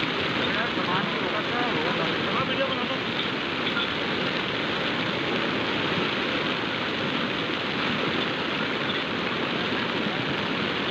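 A monsoon-flooded mountain stream in Uttarakhand surging at full force, a loud, constant roaring rush of water that fills the whole scene without letup.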